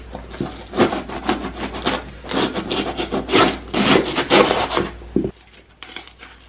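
A winter waterer bowl being trimmed down with a cutting or rasping tool gives rough, scraping, sawing strokes in uneven bursts, loud and close, then stops near the end, leaving quiet.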